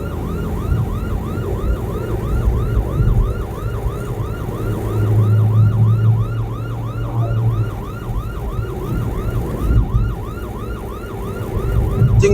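An ambulance siren wails steadily in repeating up-and-down cycles over road traffic and engine rumble, loud and continuous throughout the busy street scene.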